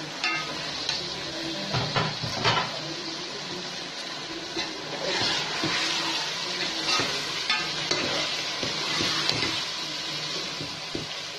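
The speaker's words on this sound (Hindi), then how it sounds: "अब इसमें हम डालेंगे ये टमाटर, हरी मिर्ची," Meat frying in a pot for student biryani as tomatoes and green chilies go in, a continuous sizzle with intermittent stirring and clattering, close and fairly loud, no talking.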